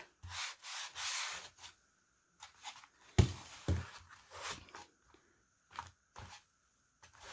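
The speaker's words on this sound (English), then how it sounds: "I'm going to go in with my sponge, same thing, raw edge" Sponge dabbed and rubbed along the raw edges of a foam-core board planter made to look like wood, giving short soft scuffing bursts with pauses, close and fairly quiet.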